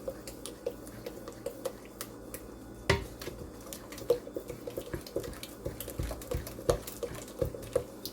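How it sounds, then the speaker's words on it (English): Banana, egg and butter stirred together in a mixing bowl for banana streusel muffins, a quiet run of soft wet clicks and taps from the utensil against the bowl, with one sharper knock partway through. "I am just going to stir these up together to mix them well."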